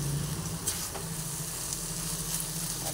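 Pointed gourd stirred with a cashew and peanut paste in a frying pan gives a steady, close sizzle broken by soft scraping stirs.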